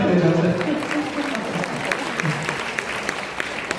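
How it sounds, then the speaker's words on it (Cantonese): An audience at a celebrity sharing event claps in a brief round of applause. Scattered sharp claps continue and thin out while a person speaks over the start. "俾掌聲，俾掌聲"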